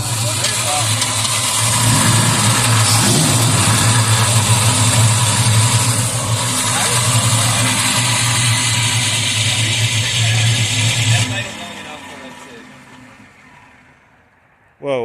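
A Ford Mustang engine runs rough and loud close by, a lumpy, uneven drone for about eleven seconds before it drops away, with a sharp burst at the very end.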